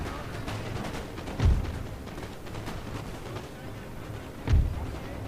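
Massive artillery fire in a Napoleon Total War battle: two heavy, booming cannon blasts about three seconds apart rise over a constant rumbling din of distant musketry.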